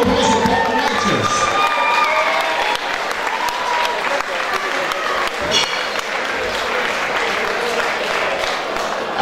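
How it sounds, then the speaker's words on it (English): A crowd at an amateur boxing event applauds and cheers loudly for boxer Paul Righteous, with dense clapping throughout, shouts over it and voices underneath. "Ladies and gentlemen, round of applause for Paul Righteous"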